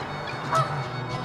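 A Canada goose gives a single clear honk midway through a short stretch of steady outdoor ambience, moderately close and alone.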